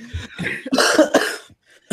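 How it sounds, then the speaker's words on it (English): A short burst of harsh, rapid coughs, several in quick succession, close and loud, then a brief silence. "yes, coughing fit"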